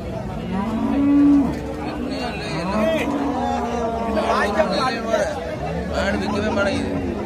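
Holstein-Friesian dairy cows low repeatedly at a busy cattle market in Karungalpalayam, Erode, with long drawn-out moos rising over steady crowd chatter and people talking nearby.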